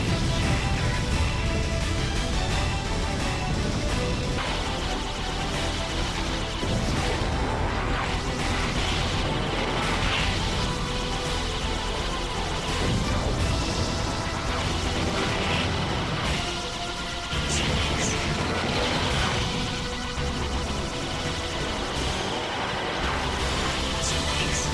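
Dense, nonstop explosions and rapid gunfire from Ikaruga, a Dreamcast shoot 'em up, layered with blasts and crashes at a steady loud level throughout.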